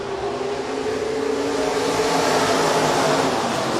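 USRA B-Modified race cars in a heat race at Rapid Speedway fill the air with a dense, continuous engine roar, several cars blending into one loud, steady drone without a break.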